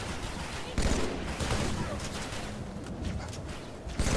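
Rapid gunfire rattles in Halo 3, a dense continuous burst of shots at moderate distance, steady throughout with a few sharper cracks.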